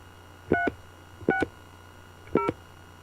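Three short telephone keypad dialing tones sound in turn, evenly spaced and clear against a quiet background, with no voices.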